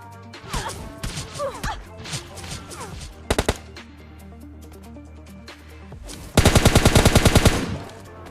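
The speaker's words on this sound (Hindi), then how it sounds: "अब बंदा पता नहीं कौन सी गन चला रहा था" Gunfire rings out in the PUBG Lite battle game, scattered shots and a brief triple burst, then a loud rapid automatic string near the end, all over a busy background of in-game effects.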